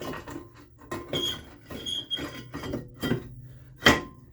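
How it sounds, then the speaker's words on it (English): A brake rotor being fitted onto the rear axle hub of a Jeep JK, with a series of close metallic clinks, scrapes and knocks that end in one sharper clank, no talking. "I'm going to put my brake rotor on"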